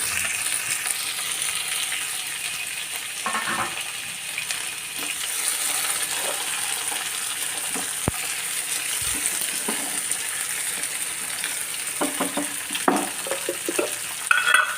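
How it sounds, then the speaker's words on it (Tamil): Tomatoes and onions fry in hot oil for a spot idli dish, a continuous loud sizzle with occasional stirring scrapes and soft knocks against the pan. "இந்த ஆயில் சூடான உடனே தக்காளி, வெங்காயம் இதெல்லாம் நல்லா மசிஞ்சிடணும்."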